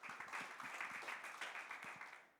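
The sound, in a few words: congregation applause in church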